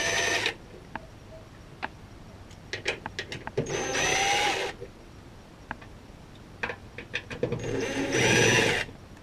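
A power screwdriver pulls out number 2 Phillips head screws from a door panel in two whirring bursts, each about a second long, with small ticks and clicks of handling in between.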